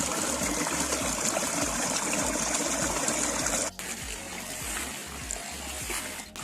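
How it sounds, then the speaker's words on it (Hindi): Fresh, cold spring water flows through the middle of a village, a steady, loud stream that gushes and trickles without a break. There is no talk over the water. "गांव के बीचों बीच चश्मे का बिल्कुल फ्रेश और ठंडा पानी जा रहा है"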